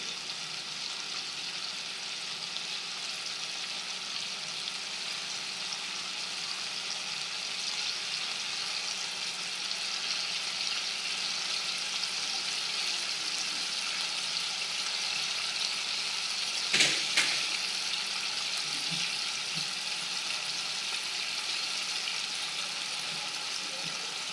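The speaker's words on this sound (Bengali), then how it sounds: "রসুনটা যেহেতু দিয়েছি, সামান্য একটু জল দিলাম, দিয়ে আর একটু কষিয়ে নেব" Garlic sautéing in a pan with a splash of water added, a steady soft sizzle running throughout with a brief louder clink or stir near the end, no talking.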